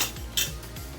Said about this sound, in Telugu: ఈ జీడిపప్పు వేసి వేయించుకుందాం కొద్దిగా పెంచేసుకుందాం స్టవ్ స్పూన్తో వేయించుకుందామండి